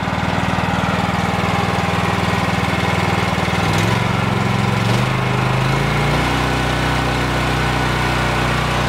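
A gas pressure washer's small engine runs loud and close after the choke is released, its steady drone rising in pitch partway through as the throttle is opened.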